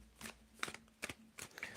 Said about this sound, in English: You can tell me when to stop shuffling.